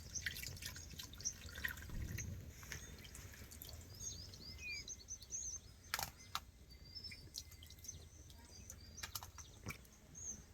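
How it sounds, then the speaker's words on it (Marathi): Tomatoes rinsed in water in a rustic kitchen while preparing chutney, a faint ongoing splashing and dripping with small clinks, fairly quiet and steady throughout, no voices. "टोमॅटो धुवून घ्यायचे आता आपण धुवून घेतो"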